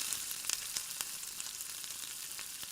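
Finely chopped onion and green chilli sauté in hot oil in a pan, a close, even, crackling sizzle with small pops scattered throughout and no talking.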